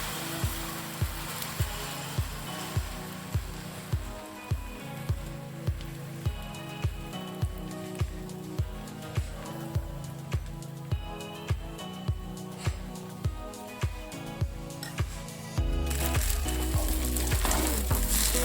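Semolina cheela batter sizzles on a hot oiled tawa, a continuous frying hiss under a steady run of regular clicking beats, ending in a sudden louder wash of sizzle.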